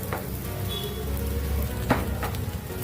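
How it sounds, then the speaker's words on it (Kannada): An aloo and green peas stuffed paratha fries in oil on a hot griddle, giving a steady close sizzle with a few sharp crackles and a soft scrape. "ಇವಾಗ ಹಂಚು ಕಾದಿದೆ, ಹಂಚು ಕಾದ್ಮೇಲೆ ಹಂಚು ಮೇಲೆ ಹಾಕೊಳ್ಳೋಣ"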